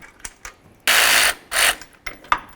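A ratchet loosening the nuts on a shock of a 2006-10 Dodge Charger, a few light clicks followed by two fast, loud buzzing ratchet runs, then more scattered clicks, close up.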